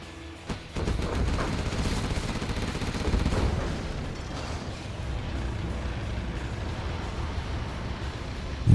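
Cannon fire in a competitive real-time strategy match: a dense, steady barrage of booming shots and impacts rolling on without pause, fairly loud and busy, with no talk.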